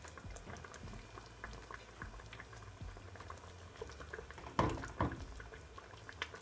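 Honey stewed salmon simmers in a pot with a soft, continuous bubbling and faint popping, quiet and close, with a couple of brief louder clanks near the end.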